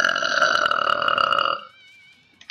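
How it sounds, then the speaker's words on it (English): A long, loud belch from a character in the game Speedrunners, one drawn-out croaking burp that cuts off and is followed by near silence and a small click. "Your inner focus is a belch of all belches."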